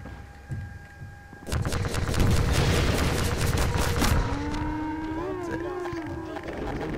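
Heavy gunfire and explosions fill a Half-Life 2 battle against Striders, a dense rattling barrage that tails into mechanical whines and rumbles. Someone speaks over the noise.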